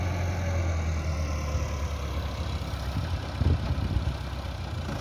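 A Massey tractor engine runs steadily in a waterlogged field, a deep continuous diesel drone with a brief rise in load partway through, near and fairly loud without talking.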